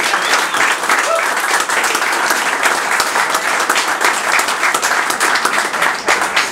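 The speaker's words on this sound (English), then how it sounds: "we should give him a round of applause for his 30 years of service" Crowd at a victory celebration applauds a longtime public servant, loud, close, steady clapping throughout with scattered voices mixed in.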